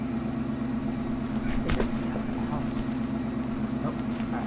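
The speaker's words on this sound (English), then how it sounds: "Pull this red truck right up here." A truck engine idles steadily in Farming Simulator 15, a low, even rumble that holds throughout at moderate volume, with one brief clunk partway through and no talking.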